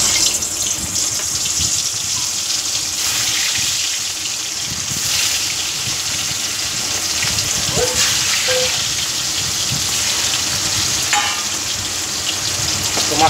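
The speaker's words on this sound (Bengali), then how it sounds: "তো এই মাছগুলো এবার এক এক করে ভেজে নেব।" Small chela fish frying one by one in hot oil, a steady close sizzle and crackle running throughout with occasional clinks and stirring noises, no talking.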